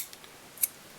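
Scissors trim fly-tying material for a baby perch tube fly, giving a few faint, quick snips with one sharper cut in the middle, close and quiet.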